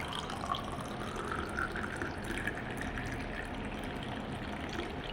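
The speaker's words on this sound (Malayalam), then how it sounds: "ഇനി നമുക്ക് ഗ്ലാസ്സിലേക്ക് ഒഴിക്കാം." Pomegranate and lime juice poured into a glass, a quiet, steady liquid trickle with a few small splashes, heard close with no talk.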